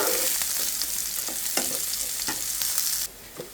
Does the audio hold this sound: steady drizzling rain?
no